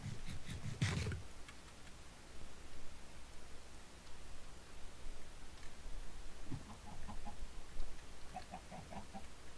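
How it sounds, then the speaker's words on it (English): Minecraft chickens in a pen give a few short clucks, one louder burst near the start and softer repeated ones later, over a constant hiss of game ambience. "we managed to get a chicken pen here, and a few chickens in it as well."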